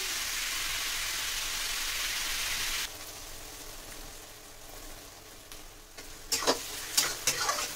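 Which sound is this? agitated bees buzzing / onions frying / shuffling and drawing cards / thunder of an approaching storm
onions frying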